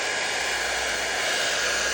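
A blow dryer on a warm, low setting, used to blow-dry and straighten relaxed hair, runs as a steady, close, continuous airy whoosh with no pauses and no voices.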